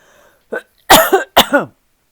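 A short throat-clearing, then two harsh, close coughs in quick succession, loud against otherwise silent surroundings.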